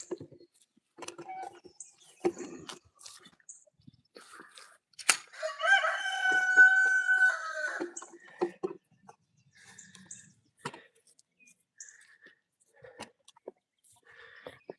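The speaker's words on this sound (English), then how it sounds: "that's called giving corn chickens" Backyard chickens being fed corn cluck and scratch in scattered bursts, and one rooster lets out a loud, drawn-out crow partway through, with a person speaking faintly nearby.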